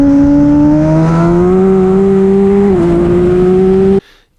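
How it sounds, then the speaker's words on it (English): Motorcycle engine on the Jerez circuit as the throttle cracks open, a loud close tonal drone whose pitch climbs steadily, dips briefly, then keeps rising before cutting off abruptly. "Now I crack the throttle in preparation to go"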